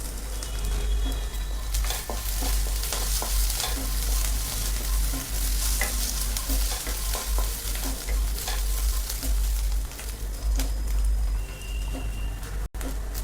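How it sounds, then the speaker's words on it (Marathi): Ginger-garlic paste and onions sauté in a pan, a steady close sizzle with scraping stirs for a Maharashtrian spiced eggplant rice, while faint bird coos drift in from outside. "आलं लसूण पेस्ट छान परतलेले."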